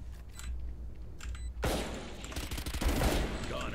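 Valorant gunfire, a few faint shots followed by a loud burst of rapid fire and impacts up close.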